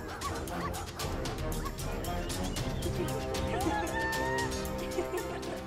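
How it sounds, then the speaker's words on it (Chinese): A puppy yips and barks repeatedly in short high bursts close by, mixed with other busy background sounds and some voices. "小狗会咬人。"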